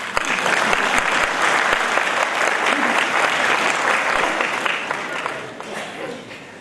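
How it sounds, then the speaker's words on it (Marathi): Audience clapping at a book publication ceremony, a loud, dense burst of applause from a crowd that holds steady and then tapers off near the end. "आपण टाळ्या वाजवायला हरकत नाही."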